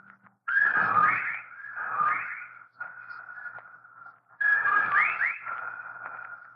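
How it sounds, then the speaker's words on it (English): Eerie, wavering whistles in an old radio drama swell and fade in slow pulses, keeping time with a dying man's breathing, warbling with a ghostly, echoing tone against near silence. "Listen, they whistle in time with his breathing now."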